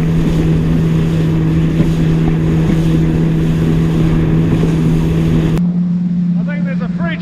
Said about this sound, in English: The wind's just starting to pick up.